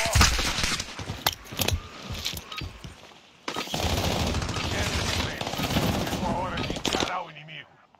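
Rapid gunfire bursts from a shooting video game, dense and loud, with a brief lull before another sustained stretch of shots, while someone talks excitedly over the action.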